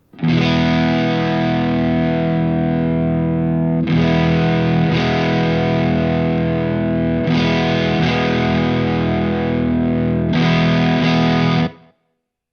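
A sustained, heavily distorted electric guitar chord through a JHS Bonsai overdrive pedal rings out, struck again several times and held each time, loud and buzzy, then cut off.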